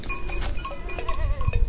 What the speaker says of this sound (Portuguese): Minha cabra.